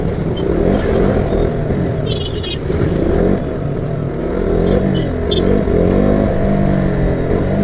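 A vehicle is driven along a road in Arakkonam, Tamil Nadu, with a steady engine hum and road rumble throughout and some faint clatter on top. No one speaks.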